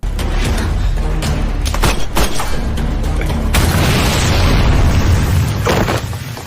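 A loud, heavy grenade blast with a deep rumble, followed by sharp bursts and crackling debris that keeps roaring before fading slightly.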